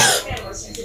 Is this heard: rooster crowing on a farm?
no